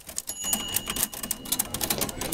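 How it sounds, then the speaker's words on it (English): Rapid, uneven clacking of typewriter keys being struck, close and fairly loud, with a few brief bright metallic tones over the keystrokes; no talking. "Look at this awesome typewriter."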